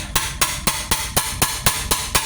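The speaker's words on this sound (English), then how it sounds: "So I'm going to focus on the inner retainer and just smack it a few times." Sharp, evenly spaced metallic smacks on the inner valve spring retainer of a Ford engine, about nine close, loud hits in a steady rhythm.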